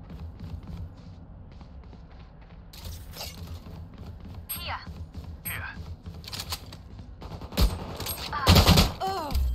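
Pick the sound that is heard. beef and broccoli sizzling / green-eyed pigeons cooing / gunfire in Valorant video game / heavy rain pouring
gunfire in Valorant video game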